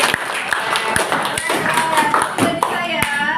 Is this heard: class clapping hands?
yes